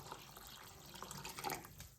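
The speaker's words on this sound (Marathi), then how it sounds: "पाणी आपल्याला ओतून घ्यायचंय।" Water pours into a bowl of rinsed sago pearls for soaking, a steady close splashing trickle running alone for two seconds.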